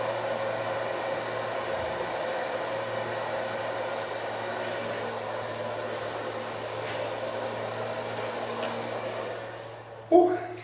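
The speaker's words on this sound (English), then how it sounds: "So far blow drying." A hair dryer blows steadily while long hair, newly cut into a bob, is blow-dried, a loud continuous whoosh holding level throughout before a brief bump near the end.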